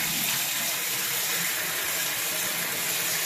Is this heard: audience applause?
no